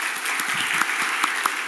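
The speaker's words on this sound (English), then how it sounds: "Give him another round of applause," Audience applause at a university forum event, a brief burst of steady clapping from a crowd with a few sharper claps standing out.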